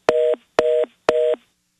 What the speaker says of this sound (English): That's our phone system.